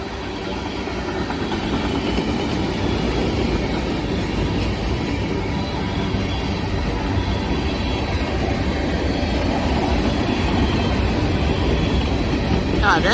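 A long freight manifest train rolls past nearby, its cars and wheels making a steady, unbroken rumble that holds loud and even throughout, with a faint squeal of wheels near the end.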